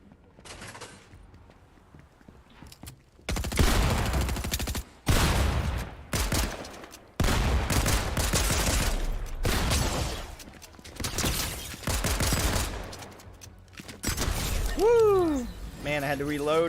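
Rapid bursts of video-game gunfire crackle in loud, dense volleys separated by short pauses, with a faint sweeping electronic tone near the end.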